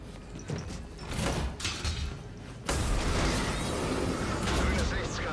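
In the Call of Duty Infinite Warfare campaign, a heavy mechanical door opens with a sudden deep thump, followed by a sustained rushing roar, over a noisy game backdrop.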